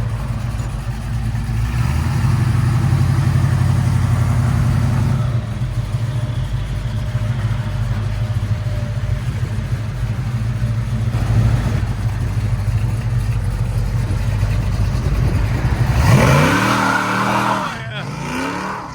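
A 500 hp 1972 Ford Mustang Mach 1 with a 410 stroker V8, headers and Hooker exhaust rumbles loudly and close at a heavy, steady idle, then near the end revs up sharply in a rising roar before dropping back.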